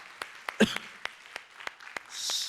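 Church congregation clapping in thanks during a worship service: a handful of scattered, separate claps, one sharper burst near the start, fading toward a soft wash at the end.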